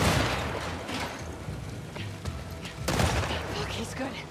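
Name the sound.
gunfire from an enemy in the video game The Last of Us Part II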